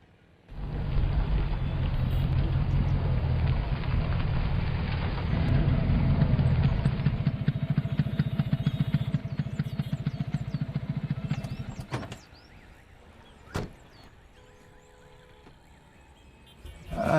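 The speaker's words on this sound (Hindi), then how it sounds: "हम बाइक पे आ रहे हैं, चलो।" A motorcycle rides along with a steady roaring engine and heavy wind rush for about twelve seconds, then cuts to quieter surroundings with a few knocks.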